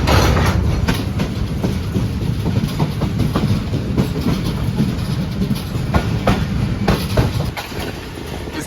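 On the 27Up Shalimar Express on Pakistan Railway near Shahdara junction, wheels beat a steady clickety-clack over the rails under a dense, continuous rumble of the moving train.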